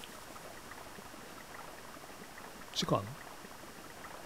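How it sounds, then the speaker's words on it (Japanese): In the Super Famicom game Chrono Trigger, a babbling stream gives off a soft, continuous burble of water as a faint steady backdrop, and a voice briefly speaks over it partway through. "なんかせせらぎ聞こえるね"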